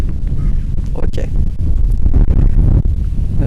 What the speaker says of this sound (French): il y a peut-être trop de vent